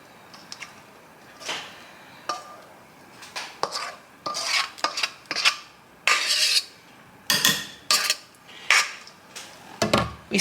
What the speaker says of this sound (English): So here is our dish here, and we're just going to coat, just kind of start spreading it around.